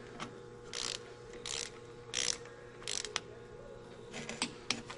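Torque wrench ratcheting a bolt down on an aluminum fuel manifold of a 13-liter ISL diesel engine: close, repeated bursts of metallic clicking separated by short pauses.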